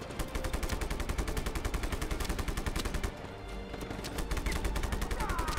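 Rapid turret gunfire and explosions from the Just Cause 3 video game, a dense, loud and continuous barrage of automatic shots that briefly thins around the midpoint before surging again.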